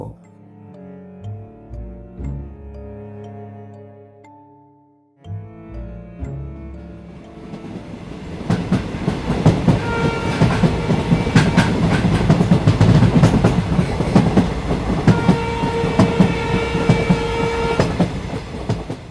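A train journey to Kashi: soft tonal music gives way after about five seconds to a loud, steady rolling rumble and rattle of a moving train, with faint rhythmic clatter continuing to the end.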